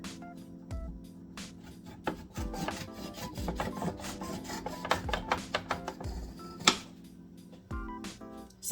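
A knife slices through bacon on a board, producing a series of soft, close sawing and rasping strokes with a few sharper taps, fairly quiet, with no talk.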